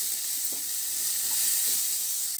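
Spices (red chilli powder, chaat masala, amchur) roasting with tomatoes on a low flame for dry kala chana masala, giving a steady soft sizzle with faint stirring scrapes and no voices.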